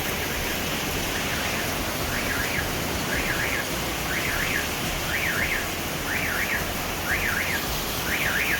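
A car alarm set off by torrential Sierra Leone rain repeats a warbling two-tone whoop about once a second, a little distant, over the constant loud roar of the downpour.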